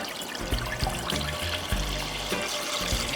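About a litre of milk pours steadily into a pan for rice pudding, a continuous close liquid splash and trickle with no speech.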